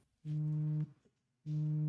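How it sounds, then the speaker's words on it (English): A mobile phone going off during a podcast recording, giving two steady electronic ring tones, each about half a second long and separated by a short pause, loud and close with no talk over them. "Whose phone's going off?"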